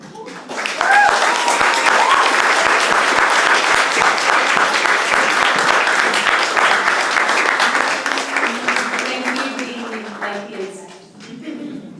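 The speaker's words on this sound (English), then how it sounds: "Big round of applause for everybody in our" Audience applause at a poetry reading event swells into loud, sustained clapping, holds for several seconds, then tapers off as voices and a few cheers rise near the end.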